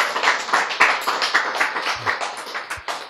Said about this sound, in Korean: 여러분, 이거 듣고 여러분 박수 쳤죠?